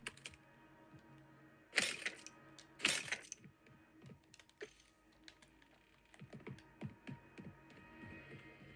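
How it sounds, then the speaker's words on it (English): Game controller buttons click faintly and irregularly during Warzone Mobile play, small plastic taps scattered among a couple of louder sharp knocks. "I can hear buttons clicking."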